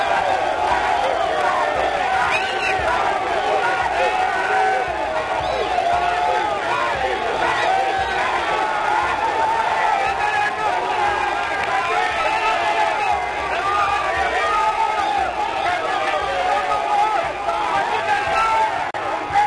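Large outdoor crowd at an airport greeting the head of state on arrival, party activists young and old, a dense continuous roar of cheering and chatter throughout with no pauses.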